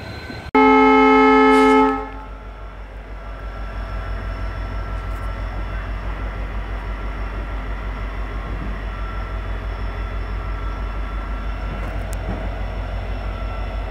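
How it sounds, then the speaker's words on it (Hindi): A WDP4D diesel locomotive hauling the Jodhpur–Sabarmati intercity train sounds a loud, sustained horn blast, then settles into a steady low diesel throb with rhythmic rumbling as the train pulls away. "तो अपनी ट्रेन ने डिपार्चर ले लिया है डॉट ऑन टाइम 11:50 पर।"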